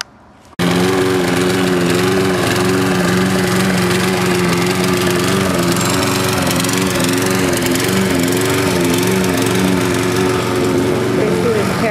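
A lawn mower engine starts and runs loudly and steadily close by, its droning hum wavering slightly in pitch throughout.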